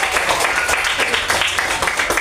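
A class clapping together in a school lesson, brief rhythmic rounds of claps close by, loud and continuous over the short span.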